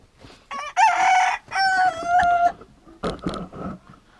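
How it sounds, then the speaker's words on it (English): An Egyptian Fayumi frizzled rooster crows loudly and close by, a long drawn-out call followed by a shorter, rougher crow. "So that was our Egyptian Fayumi frizzled rooster, but I heard another crow in there"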